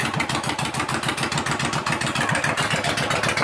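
Yamaha V Star 1100 bobber motorcycle engine running steadily at close range, a loud rhythmic V-twin pulse with mechanical clatter and no talking.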